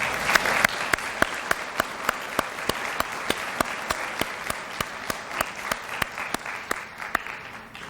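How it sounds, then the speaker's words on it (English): A graduation crowd applauds in a dense, continuous wash, with a few sharper, evenly spaced claps standing out near the front as it goes on. "Let's give them a round of applause."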